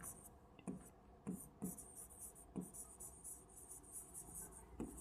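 A teacher writes on a classroom board during a grammar lesson, a series of faint, brief tapping strokes spaced irregularly over a quiet room with a steady high hiss.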